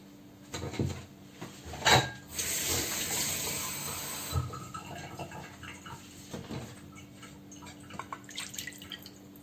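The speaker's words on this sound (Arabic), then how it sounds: "هذيك الماريناد اللي بقات عندنا هنا غادي نزيدو عليها شي شويه د الماء" Water is poured into leftover chicken marinade in a pot for a Moroccan chicken tajine with onions, making soft trickling and dripping sounds with a few clinks, close and fairly quiet, with no talking.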